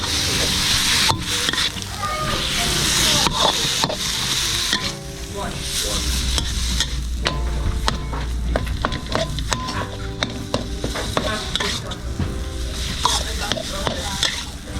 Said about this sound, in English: we add the pork meat in. Pork meat in it.